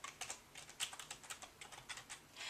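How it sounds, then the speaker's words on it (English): Quiet typing on a computer keyboard set off to one side, a quick irregular run of soft key clicks with brief pauses, alone without talk. "I have the keyboard over to my side, so I'm sort of typing around the corner here."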